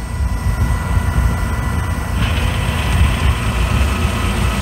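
A Massey Ferguson 6460 tractor engine running at a steady, loud diesel rumble up close, with a slight rise in tone partway through and no talk.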